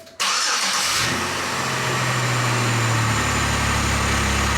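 A 2004 Pontiac Aztek engine cranks briefly, catches almost at once, and then runs at a loud, steady idle close by, with no talk over it.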